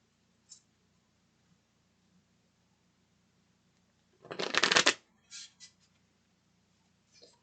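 Tarot cards shuffled by hand in a quiet room, one brisk riffling burst lasting under a second, followed by a few shorter flicks and taps, close and clear with no talk.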